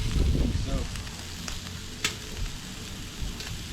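Scallops fry on a discada outdoors with a steady oily sizzle and occasional clicks and scrapes, while a voice is briefly heard at the start.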